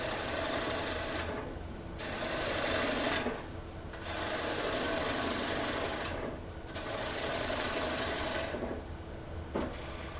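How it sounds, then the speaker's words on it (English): 80 grit sandpaper rasps against a spinning wooden hat on a lathe, a steady abrasive whir broken by short pauses as the paper is lifted and pressed back on. "That 80 grit will just take it right down."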